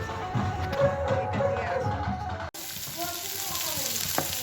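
Apple snail curry sizzling as it is sautéed with spices in a pan, a steady close frying hiss with faint scraping from stirring throughout.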